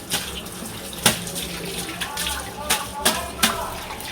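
A broom is rinsed under running water in a home, with a steady faint splash and trickle broken by a few sharper splashes and knocks.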